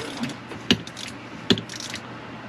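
A ratchet snugs bolts during an air-conditioning system rebuild. Two sharp, close clicking bursts stand out over a quiet mechanical background, with faint softer ratcheting in between and no talking.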